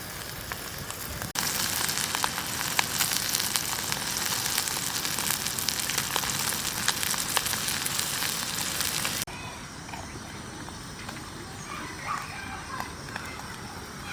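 Shrimp frying with salt and turmeric in a kadai gives a loud, dense sizzle that crackles continuously, then drops abruptly to a softer spatter with faint background sound.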